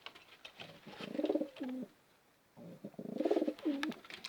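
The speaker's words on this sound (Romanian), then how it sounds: "o să vă arăt pe porumbei mai de aproape" Homing pigeons coo up close in two separate bursts of low, throaty, rolling calls, with a short quiet gap between them.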